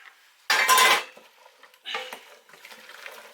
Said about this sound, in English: In goes all the veg.